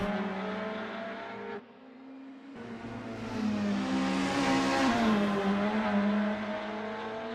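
Sim racing cars lapping Donington at full throttle, engines roaring and climbing through the gears, with a brief dip before the revs build again into a loud, sustained wail.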